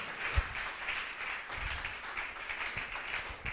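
A church congregation claps together, a scattered patter of hands with a few sharper claps standing out, moderately loud and steady for a few seconds, with no voices over it.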